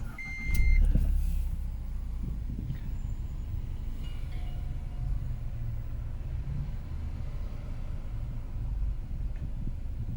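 An LDV G10 van's engine cranks and catches with a loud burst, then settles into a steady, low idling rumble that carries on without speech.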